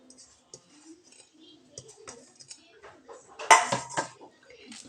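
Soaked flattened rice (poha) is tipped into a wide vessel with soft scraping and a brief cluster of metal clinks and clatter midway, fairly close and otherwise quiet.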